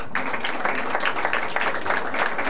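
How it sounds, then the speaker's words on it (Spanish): Applause breaks out at a family birthday party in Comas, a steady patter of many hands clapping together close by for a couple of seconds, with no voices over it. "Yo quiero un fuerte aplauso para la abuela."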